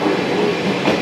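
An old-style passenger coach, SuHaFu 32 2357, rolls behind an EF64 1001 locomotive between Takasaki and Yokokawa, with a continuous close, rumbling wheel-and-track noise heard from inside the car.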